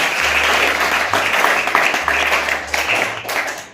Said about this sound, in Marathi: एकदा रेणुकासाठी जोरदार टाळ्या झाल्या पाहिजे